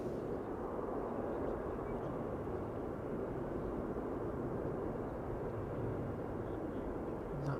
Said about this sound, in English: I'm actually hearing the reversers.